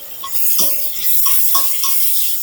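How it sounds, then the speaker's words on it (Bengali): Onions frying in oil in a kadai: a soft, continuous sizzle under a few light scrapes and taps of a utensil stirring, close and fairly loud, with no voices. "পেঁয়াজটাকে একটু ভেজে নিচ্ছি, পেঁয়াজের কাঁচা গন্ধটা চলে যাওয়া পর্যন্ত।"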